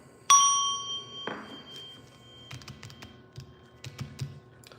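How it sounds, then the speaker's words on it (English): A small bell is struck once, ringing with a bright sustained tone that fades within a second, followed by scattered light tapping and clicking noises nearby, with no voices. "I'm gonna hit the bell."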